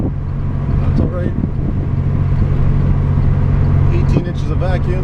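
A Chevrolet Cavalier Z24 engine cruises steadily at about 2,000 RPM and 50 km/h, a constant low drone with road and wind noise inside the car, while someone talks over it.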